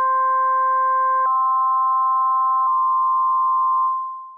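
A pure sine tone near 1 kHz on a Korg opsix FM synthesizer, with sub-harmonic ratios brought in to add lower tones; the steady, clean tones step through two changes before thinning to a single pitch and fading.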